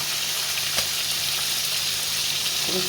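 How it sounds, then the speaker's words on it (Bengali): Hilsa fish frying in a pan gives a steady, close broadband sizzle with a faint clatter near the start and a brief scrape toward the end. "এখানে মাছটা ভাজছি"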